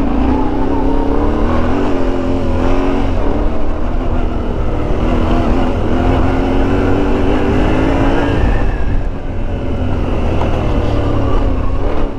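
A new 2022 Yamaha Ténéré 700 motorcycle engine drones steadily and loudly while riding, its tone rising and falling slightly with the throttle, accompanied by wind rush throughout.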